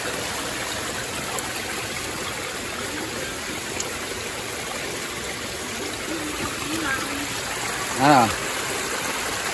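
A stream flows in a steady, broad rush of water, constant and fairly near, with a short voiced exclamation near the end.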